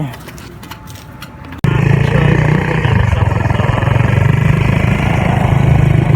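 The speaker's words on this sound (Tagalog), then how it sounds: "sumakay lang tayo ngayon sa motor natin kasi nasira yung ating motor" Motorcycle engine running while riding, starting abruptly as a loud, steady low rumble that continues throughout, after a quieter stretch of background noise.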